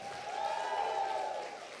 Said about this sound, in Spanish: Vamos a darle ese aplauso más fuerte.